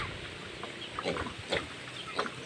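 Backyard farm pigs give several short, low grunts and snorts at close range over a steady outdoor hiss.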